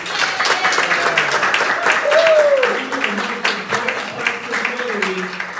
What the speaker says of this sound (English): And give her a round of applause.